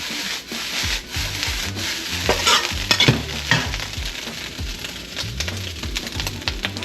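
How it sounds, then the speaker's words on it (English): Soy sauce sizzles in a pan of homemade fried rice while a utensil stirs and scrapes through it, giving loud, close, continuous frying noise broken by rhythmic scraping strokes, with no talking. "So you add it around the edge so that it cooks a little bit before you stir it in."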